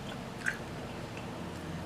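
Crunchy chewing of fried dill pickle spears with a cornmeal coating and hot sauce, heard close up as steady, soft mouth crunches with one sharper bite near the start, and no talking.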